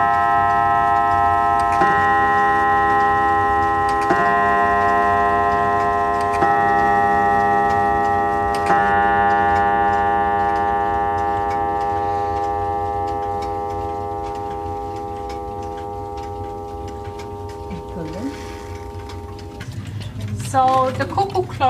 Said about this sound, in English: Here's a German clock.